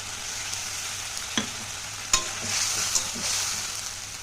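Ground spice paste with dried red chilli fries in a pan for Bengali egg curry, a steady hiss of sizzling with a few sharp spatula taps and scrapes, close and fairly quiet, no talking.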